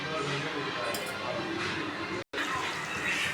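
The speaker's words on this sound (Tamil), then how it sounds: "தேவையான அளவு கொஞ்சமாக த ஒரு ஒரு டம்ளர் அளவு தண்ணி ஊற்றிக்கலாம்" A tumbler of water poured into mutton pepper curry cooking in a pan gives a steady, dense hiss and sizzle throughout, with one brief break partway through.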